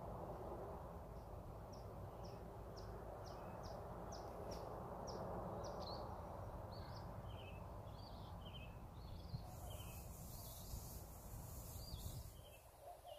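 Birds sing in a garden, with a series of faint, repeated chirps and short calls over a steady low background hum, fairly distant and without voices.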